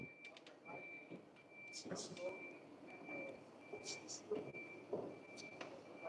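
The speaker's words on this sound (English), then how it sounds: "We've got his truck going in now." A truck pulling into a slaughterhouse during a protest: a steady high reversing beep repeats throughout, with engine rumble and crowd voices talking over it.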